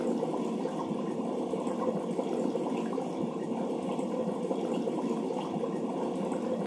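A waterfall rushes in Super Mario Odyssey, a steady, dense wash of falling water that holds at an even level with no breaks, close and full.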